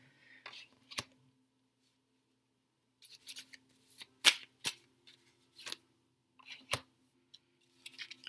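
Tarot cards are shuffled and pulled for a weekly reading, heard as scattered sharp snaps and riffling flicks separated by quiet gaps, close and crisp, with a faint low hum beneath.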